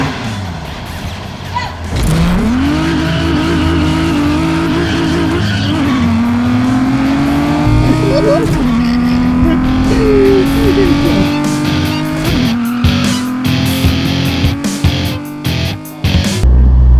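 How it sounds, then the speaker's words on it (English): Loud race-car engine roar with tires squealing, played from speakers, revving up and holding high, sustained screeching pitch shifts over continuous engine noise, no talking. "we use speakers to sound like we're street racing"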